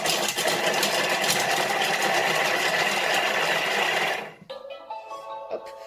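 A Thermomix food processor chops onion for a Tunisian couscous, its motor a loud, steady whirring buzz for about four seconds before winding down into softer clatter.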